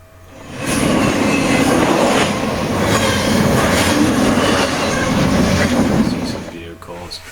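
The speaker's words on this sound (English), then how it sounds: "And lots of trains coming by every so often." A train rolls past on nearby tracks, a loud steady rumble with rhythmic wheel clatter that swells in quickly and holds for several seconds before fading.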